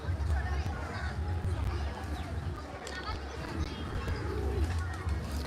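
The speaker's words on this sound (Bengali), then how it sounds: "এগুলো বিদেশি কবুতর" Foreign pigeons at a zoo cooing in soft, repeated throaty calls close by, with people talking over them throughout.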